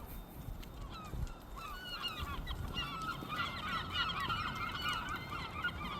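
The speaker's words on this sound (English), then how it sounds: "Because there's a flock of seagulls." A flock of seagulls at the abandoned Sunrise Mall in Massapequa calls continuously with overlapping squawks, fairly distant and quiet over a rough wind-like background.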